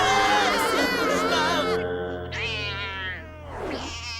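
A cat lets out a series of long, wavering meows that bend up and down in pitch, moderately loud and close, one after another with little pause between.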